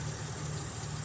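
Ford Ranger 4.0 V6 idling roughly with a vacuum line leak, a steady close-up engine drone with a low rumble and hiss, no voices.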